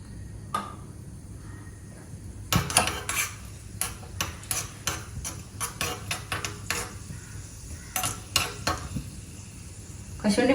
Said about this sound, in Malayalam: നമ്മൾ ഒരു 4-5 കശുവണ്ടി ഇവിടെ ഇട്ടിട്ടുണ്ട്, അതിട്ട് കൊടുക്കാം.